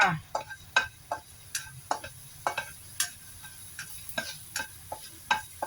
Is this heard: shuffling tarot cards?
no